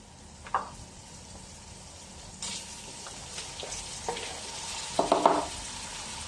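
Tomatoes go into a hot frying pan during a banana heart and shrimp dish, giving soft sizzling and a few close scraping stirs, with a louder burst of frying and stirring near the end.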